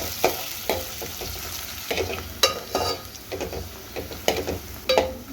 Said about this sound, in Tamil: சேர்த்து அதுவும் நல்லா பொன்னிறமாக வதக்கணும்.